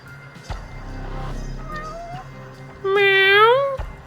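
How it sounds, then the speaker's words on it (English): A cat in the game Judgment meows twice, a short call and then a longer, louder rising-falling meow, with faint game music and a brief voice underneath. "Where the freak is this cat?"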